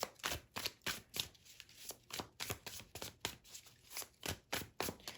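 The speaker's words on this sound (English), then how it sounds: "They're telling me to shuffle like 3 more times" Tarot cards are shuffled in quick repeated riffles, a rhythmic series of soft flutters and taps close by, with no talking.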